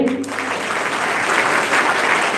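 Audience applause at an Independence Day ceremony in India, a dense wash of clapping that starts after a brief break and holds steady and fairly loud, with no talking over it.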